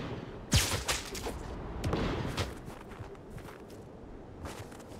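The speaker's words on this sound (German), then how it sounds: "Hier wird doch geschossen, ich hör's doch" Gunfire in the Spider-Man video game: a few sharp, fairly loud shots early on, followed by scattered fainter bangs and clatter over a busy game background.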